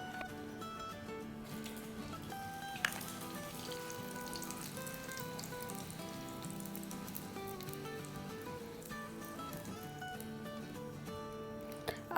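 Aloo kababs frying in plenty of hot oil: a steady, faint crackling sizzle, continuous and even throughout with no talking, heard close but soft.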